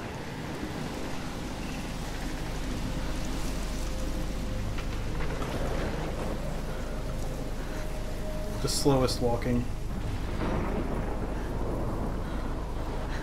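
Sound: thunderstorm and rain in the video game Life is Strange

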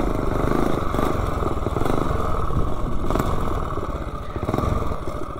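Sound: minibike engine on a top speed run uphill

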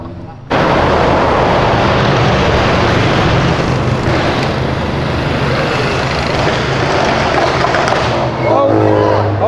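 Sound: car engine accelerating, Chevrolet Veracruz with bodykit

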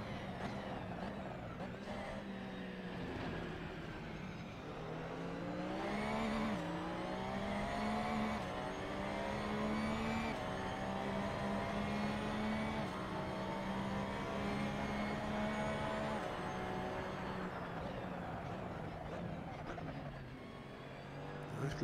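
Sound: race car driving at Imola in video game Assetto Corsa

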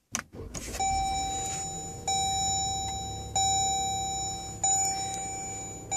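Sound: Jeep Grand Cherokee push-button engine start

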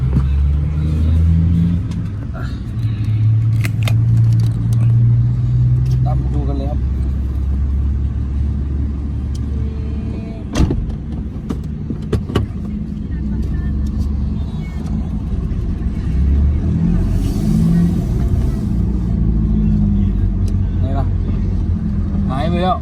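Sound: car engine revving

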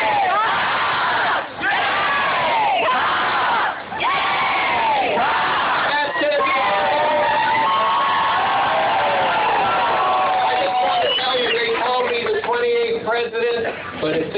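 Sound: crowd cheer at Carolina baseball send-off

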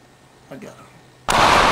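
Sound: gunshot from taking the sniper shot

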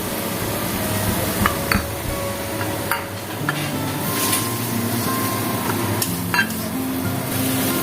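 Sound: chili paste and spices frying in pan for tangra fish

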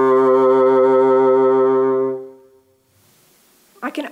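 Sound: bassoon playing a melody with vibrato

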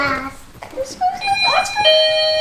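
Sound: doorbell ringing

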